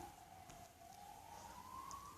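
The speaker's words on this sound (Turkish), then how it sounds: "ambulans geçiyor herhalde ya?" A faint, distant ambulance siren wails steadily as it passes, its pitch slowly rising, with no other sounds standing out.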